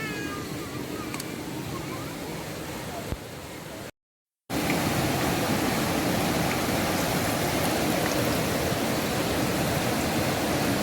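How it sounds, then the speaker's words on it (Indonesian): A gurgling river stream at a riverside camping ground in a valley near Bogor rushes steadily in the background. It's quieter and a bit muffled at first, then after a brief dropout it becomes a loud, continuous close wash. "Apalagi dengar gemercik sungai air."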